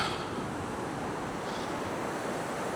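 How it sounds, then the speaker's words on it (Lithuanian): Steady broadband roar of sea surf with wind, continuous and fairly soft, no voices. "Jūra ošia."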